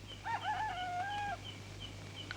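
A rooster crows once at dawn, a clear rising-then-held cock-a-doodle-doo from moderate distance over a quiet low hum, ending in silence.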